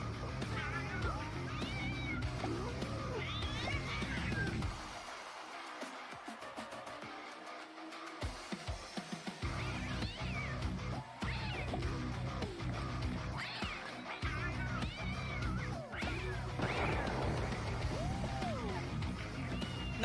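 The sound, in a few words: cats meowing in a video game about fighting cats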